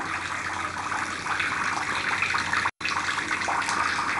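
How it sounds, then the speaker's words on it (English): A filtration pump forcefully pumps water out of a large koi tank, giving a steady, loud rushing gush of water that runs continuously with one very brief cutout. "we got it pumping out water furiously"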